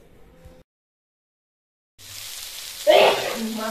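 Cut eggplant pieces frying lightly in hot oil for a fish curry, a soft sizzle that starts after a short silence and swells briefly when the pieces are stirred.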